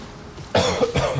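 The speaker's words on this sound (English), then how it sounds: "Oh, that was a bad time to cough." A single sharp cough bursts out after a brief quiet stretch, close and fairly loud, followed by a second rougher hack, with faint game sounds in the background.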